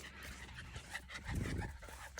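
A puppy pants close by in a steady breathy rhythm that grows louder toward the end, with a faint whimper mixed in outdoors.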